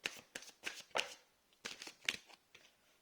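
Tarot cards shuffled by hand in a series of quick papery riffles and slaps, close and fairly soft, with short pauses between bursts and no talking.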